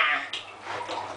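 A small child splashes bathwater, making bright, uneven sloshes and slaps that are close and fairly loud. The splashing comes in short bursts with no clear speech.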